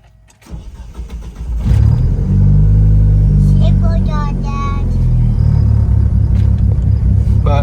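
A tuned 1997 Mitsubishi Eclipse GSX engine cranks and starts, then settles into a loud, deep, rumbling idle that continues steadily, with a voice briefly audible over it.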